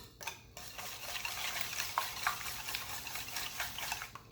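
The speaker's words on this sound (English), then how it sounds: "So we're going to whisk this." Eggs are whisked by hand in a bowl for a banana croissant bread pudding custard, a quick, quiet run of rhythmic scraping and light clinking that goes on throughout.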